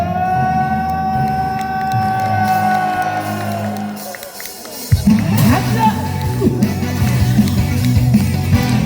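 A concert crowd roars and cheers for a singer at a lively outdoor show, a broad burst of shouting swelling in halfway through over the continuing amplified music and singing.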